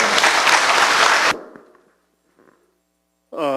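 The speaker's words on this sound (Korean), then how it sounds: "박수로 환영해주십시오." An audience at a lecture applauds to welcome the professor, a loud dense burst of clapping that stops abruptly, followed by near silence with small rustles and then a voice beginning to speak.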